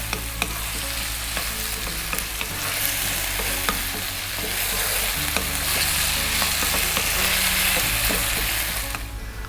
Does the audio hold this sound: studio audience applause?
no